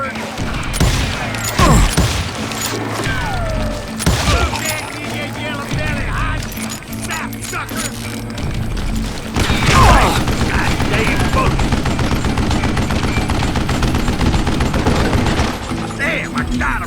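Repeated gunshots and rapid bursts of fire in the Wild West shooter Call of Juarez Gunslinger, loud cracks mixed with mechanical clicks over a busy game soundtrack, with voices talking at points.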